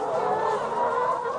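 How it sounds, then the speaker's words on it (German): Hundreds of farm chickens cluck together in a dense, continuous chorus, a close crowded murmur of overlapping clucks with no clear gaps. "Hunderte Hühner fressen Uwe fast aus der Hand."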